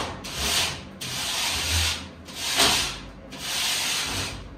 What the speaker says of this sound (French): Alors moi toujours les plaques de plâtre à main levée au cutter.